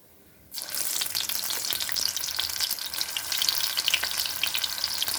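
Food drops into hot oil in a pan over lowered gas and breaks into a sudden, loud, crackling sizzle after a brief quiet start. The frying stays close and steady to the end.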